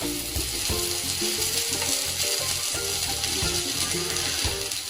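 Dhapate flatbreads fry in oil on a pan, with a steady close sizzle overlaid by rapid rattling, clicking scrapes of a utensil against the pan.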